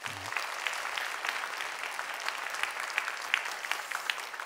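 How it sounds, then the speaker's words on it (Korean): A church congregation in Gunsan applauds during a sermon, with steady, even clapping at a moderate distance and no voices over it. "박수 한번 해주셔요"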